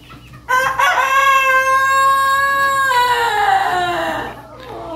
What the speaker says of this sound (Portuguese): Canta, galinho, canta!